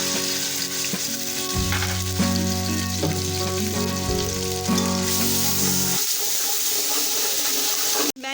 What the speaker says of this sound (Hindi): वो गर्म हो चुका है और अब मैं इसमें ऐड करने लगी हूँ 2 खाने का चम्मच भर के अदरक लहसुन का पेस्ट।